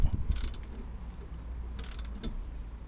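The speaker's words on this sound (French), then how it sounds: "J'utilise mon levier pour le serrer bien fort quoi." A ratchet lever tightens a car's front shock absorber with two quick bursts of clicking pawl action, separated by a pause with faint mechanical creaks, close and clear.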